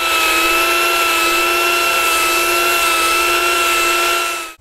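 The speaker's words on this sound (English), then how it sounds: "I'm now going to finish off the shaping using a mini grinder with a sanding disc." A mini grinder with a coarse sanding disc shapes a solid wood tray, giving a steady, high-pitched whine that holds constant and loud for several seconds before spinning down at the end.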